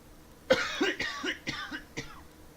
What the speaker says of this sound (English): And as I say that, here's a cough coming.